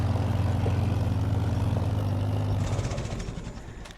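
A tractor backing up a John Deere forage chopper on a dairy farm, its steady diesel engine drone loud and close, with a low harmonic hum that thins and fades toward the end.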